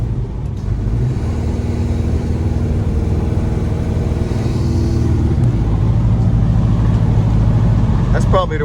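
A 1979 square-body truck with a 454 big-block engine accelerating, a steady low engine drone with a sluggish rising pitch heard from inside the cab under continuous talk.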